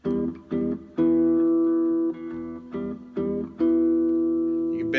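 A cigar box guitar plays a bluesy run of plucked notes, with longer sustained notes bent upward. The twangy plucks sound close and fairly loud in an uneven rhythm, with no voices.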